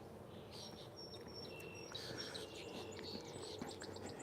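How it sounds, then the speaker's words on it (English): Birds singing outdoors on Mackinac Island, a quiet spot by a gazebo: faint, distant high chirps and short whistled phrases scattered over a soft steady background hum. "Hear all the birds."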